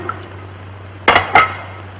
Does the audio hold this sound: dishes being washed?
yes